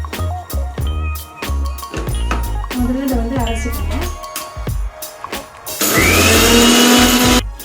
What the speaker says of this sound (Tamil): முதல்ல வந்து இதை வந்து அரைச்சிக்கோங்க நல்லா நைட்டாக அரைச்சிக்கோங்க